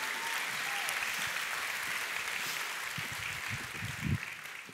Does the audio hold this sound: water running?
no